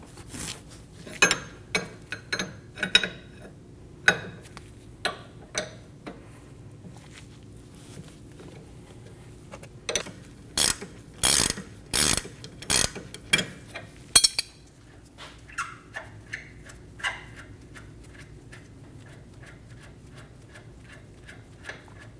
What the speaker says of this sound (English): Using a 15mm wrench, we're going to hold our inner tie rod still while we use a 24mm wrench and remove our tie rod jam nut